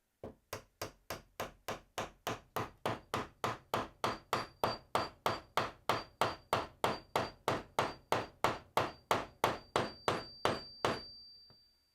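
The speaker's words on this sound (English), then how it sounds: "now we can get it tapped down into place" A glued wooden dowel is tapped down into its hole with a hammer, giving a steady run of about thirty sharp, evenly spaced knocks close up with no voices.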